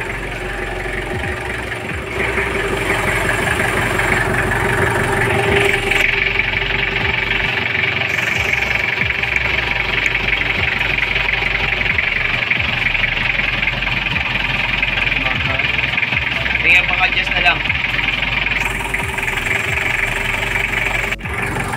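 A car engine idling with a faulty idle-up, running as a steady close rumble with a constant rough mechanical hum that holds level throughout.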